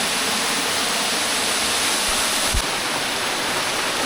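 A small waterfall gives a steady, close, dense rush of falling water with no pause, broken only by a brief low thump midway. No one talks.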